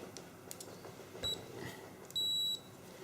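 Digital multimeter in continuity mode during a repair of a Monacor PS-310 power supply, giving a short high beep followed by a longer steady beep as the probes touch a circuit board trace, over quiet room noise.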